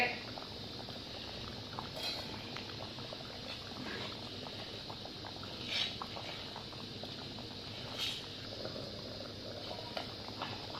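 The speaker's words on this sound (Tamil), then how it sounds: "இப்போ குழம்பு நல்லா கொதிக்குது." A pot of thick tamarind curry boils and bubbles steadily at low volume, with faint clinks and soft kitchen noises around it.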